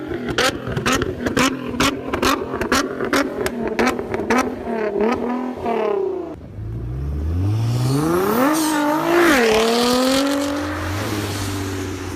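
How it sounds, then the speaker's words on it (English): A 2016 Nissan GT-R engine revs in a run of sharp, rhythmic throttle blips, then climbs into a long rising rev that peaks and falls back to idle, loud and close with no talk. "So over here I've got a 2016 Nissan GTR."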